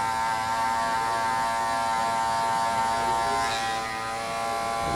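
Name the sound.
electric hair clipper cutting hair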